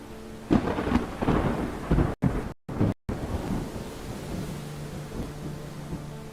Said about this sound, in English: 'Tis been a turbulent and stormy night.